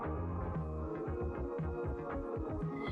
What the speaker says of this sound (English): you'll hear your machine make some noise, and that's a good sign